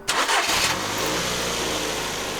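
A car engine cranks and catches in a short burst, then settles into a steady mid-pitched idle with a heavy flywheel, started again right after an air filter change; close and fairly loud, no talking.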